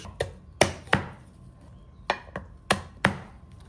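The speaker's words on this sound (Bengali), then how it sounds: "গার্লিক কোষগুলি চপ করে নিচ্ছি" Garlic cloves are chopped with a knife on a board while a beef kofta dish is prepared. Six or seven crisp, close chops fall in an uneven rhythm with short pauses between strokes.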